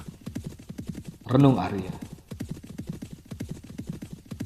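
Horses carry three travellers at a steady clip-clop in an Indonesian audiobook sound effect, hooves rhythmic and close, with a brief whinny, all under continuous narration.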